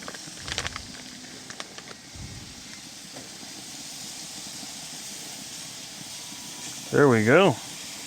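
Thick-cut bacon sizzles on a Weber grill converted to a griddle, a steady close hiss with faint crackles throughout, and a voice speaks briefly near the end.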